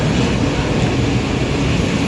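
Steady, loud rumble of a sleeping night train in Romania on the Brașov to Baia Mare route, a continuous broadband drone of rail noise with no clear breaks and no talking.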